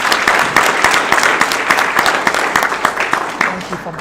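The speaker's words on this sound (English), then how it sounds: "Let's give them a hand clap, you guys" A graduation crowd in Pitt County claps for the staff team, with sharp, individual claps standing out over a lively crowd and voices, gradually tapering off.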